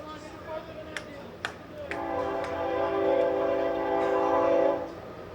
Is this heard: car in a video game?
no